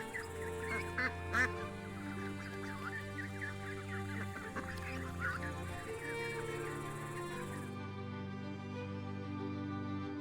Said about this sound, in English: the ruddy shelduck, a migratory waterfowl species that frequents many high Tibetan lakes, including Yamjo and Namtso